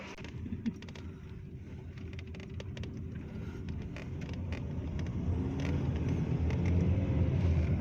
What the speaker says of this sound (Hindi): अभी हम गाड़ी में बैठने लगे हैं